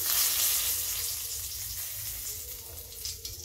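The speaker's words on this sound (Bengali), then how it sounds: "ওই তেলে আমি দিয়ে দিলাম তেজপাতা" Bay leaves crackle and sizzle in hot oil, a soft steady frying hiss that settles a little toward the end.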